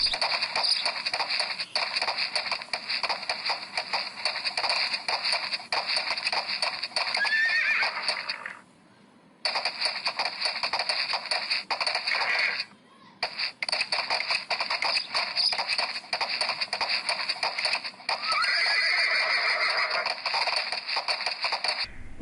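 A horse whinnies repeatedly amid steady clip-clopping hooves and some scraping, loud and close, continuing for over twenty seconds with two brief drops to near quiet.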